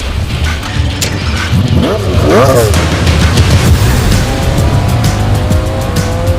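A car rolls along with passengers aboard, a loud, dense drone of engine and road noise with a brief tire squeal partway through, and voices talking over it.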